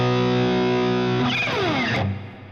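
An electric guitar runs through a Fractal FM9 southern rock preset, a sustained distorted chord ringing loud and alone, then a quick slide before it cuts off into a short reverb tail.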